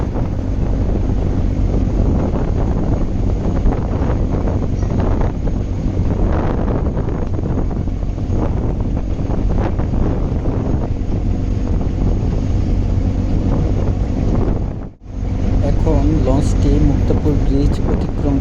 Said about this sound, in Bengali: লঞ্চটি প্রায় দশ নটিক্যাল মাইল স্পিডে ইলিশার উদ্দেশ্যে প্রতিনিয়ত ছুটে চলছে